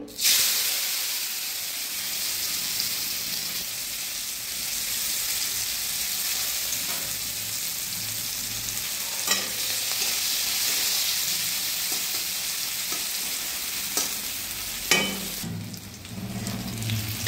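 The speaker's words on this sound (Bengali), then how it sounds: "এবার আমি তেলের মধ্যে পেঁয়াজ কুচনোগুলো দিয়ে দেবো।" Chopped onions frying in hot oil in a wok, a steady loud sizzle and hiss that runs throughout, with a few sharp clinks and stirring scrapes near the end.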